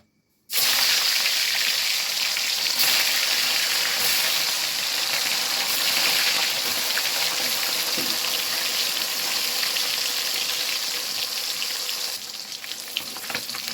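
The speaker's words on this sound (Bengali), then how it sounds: "তেল গরম হয়ে গেছে, মাছটা ভেজে নেব।" Rohu fish frying in hot mustard oil in a kadai. It starts abruptly with a loud, dense, hissing sizzle that holds steady and close for the whole stretch, easing only slightly toward the end.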